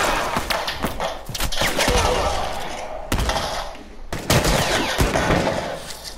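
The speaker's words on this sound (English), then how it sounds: "Wow, a shotgun!" Shotgun fire in the video game The Last of Us: loud, booming blasts rip out one after another over a dense, noisy battle mix, with brief gaps between bursts.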